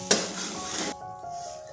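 A spoon scrapes and clinks as a fish is turned over in a pan of curry masala, making a brief close clatter over a sizzle that fades into a quieter simmer.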